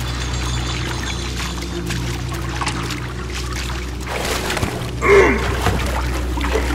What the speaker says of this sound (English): it sounds like water is still in here